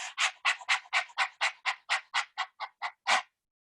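A person imitates a dog's panting with quick, breathy huffs, about a dozen short bursts in a steady rhythm, close and clear before stopping.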